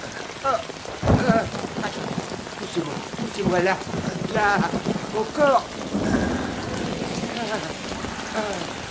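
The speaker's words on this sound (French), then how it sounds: "Et en plus de tout, il pleut." Steady rain patters down with distant rumbling thunder, while a few people speak over it.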